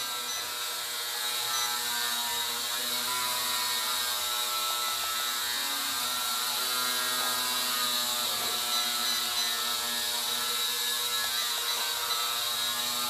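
Small motors of an E99 K3 Pro toy drone whir continuously in a steady, buzzy, slightly rough high-pitched drone with no pauses, close and even throughout.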